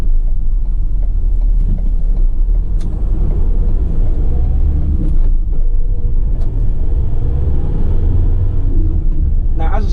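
A 2016 Ford Transit tipper truck engine runs steadily and close by after starting, its loud, continuous low rumble lasting throughout with no talk over it.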